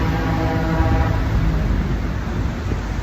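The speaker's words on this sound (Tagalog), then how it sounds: "Parang dadating na yung tren ko." An LRT train rolls into a station platform with a loud, continuous rumble and rail roar, heavy and steady throughout, easing slightly toward the end, with no voices.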